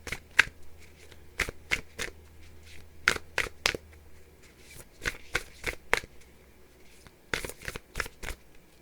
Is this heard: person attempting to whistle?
no